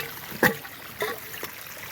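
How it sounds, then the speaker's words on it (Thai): An eel trap sinks into water on a rainy roadside, giving a few soft splashes and gurgles spaced about half a second apart over a quiet wet background. "บดจมน้ำดูครับ"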